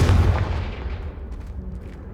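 Confringo fire spell blast in Hogwarts Legacy, a loud low boom at the start that rolls off into a rumbling, crackling tail over about two seconds, with no voices.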